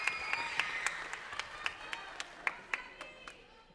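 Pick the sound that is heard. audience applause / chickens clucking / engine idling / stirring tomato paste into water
audience applause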